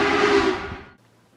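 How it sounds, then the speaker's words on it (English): A steam locomotive whistle gives one loud, bright, tonal blast that lasts under a second. It is cut off sharply and leaves a faint low hum behind. "steam locomotives use whistles to ensure that they can be heard."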